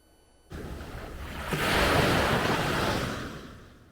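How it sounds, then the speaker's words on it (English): Ocean waves crash and wash against the coastal shore, broad surf rising into a loud rush midway and then receding, with some wind noise and no talk. "Waves crashing against the shore, a beautiful sight along the coast"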